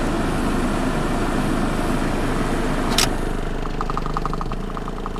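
A Mazda 626 with the FS engine idles in gear with a valve knock, a loud, steady close-up engine drone. Near the end, a quick series of light ticking beats sounds over the hum.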